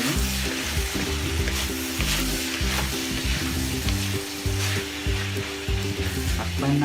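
Beef fried rice sizzles loudly in a pan while it is stirred, a dense constant frying hiss broken by repeated scraping strokes and low rhythmic thumps from the spatula.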